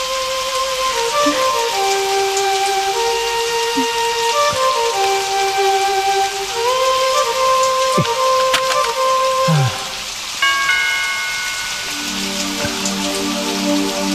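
Steady rain falls through a scene set in an Indonesian TV drama, a continuous wash of patter with tonal background sounds layered over it and no voices.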